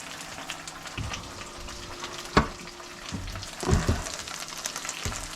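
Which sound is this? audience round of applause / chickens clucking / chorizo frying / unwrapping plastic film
chorizo frying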